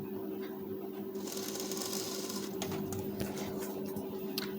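A sewing machine runs a basting stitch along a lined blouse, a steady mechanical whir that is loudest in one burst near the start and then continues at a lower level.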